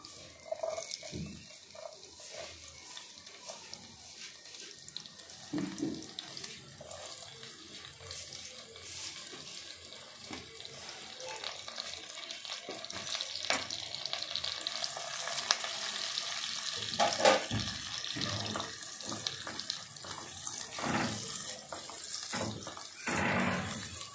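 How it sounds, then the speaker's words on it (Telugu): Cumin seeds fry in hot oil with a continuous close hiss and crackle, joined by occasional stirring clinks and scrapes that grow busier toward the end, no talking. "సో జీలకర్ర అలా వేగుతుంది కదా."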